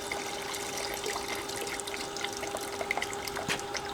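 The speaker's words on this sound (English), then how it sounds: "And we'll also turn on the funnel feed water here." Water running through the funnel feed of a gold sluice on a five-gallon bucket system, a steady close trickling rush with small splashes and drips, no talk.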